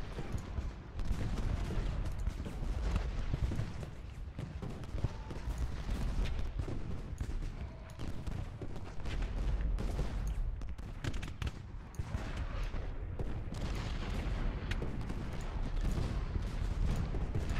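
Artillery shelling rumbles through an Ultimate General: Gettysburg battle, with repeated booms and rolling gunfire dense across a noisy battlefield, loud and continuous.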